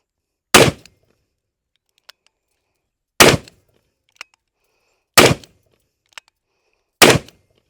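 Four loud, sharp Smith & Wesson gunshots crack at an outdoor shooting range, spaced roughly two seconds apart, with faint metallic clinks in the gaps between them.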